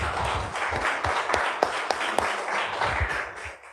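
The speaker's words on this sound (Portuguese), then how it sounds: "Bata uma salva de palmas bem forte para o Senhor Jesus nesta noite." A church congregation applauds during an evening worship service, loud, dense clapping from many hands sustained throughout, with faint voices mixed in.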